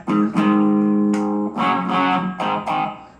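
Electric guitar through a Korg AX3000G multi-effects unit on an overdrive preset, a few loud distorted chords struck one after another, each sustaining briefly before the next.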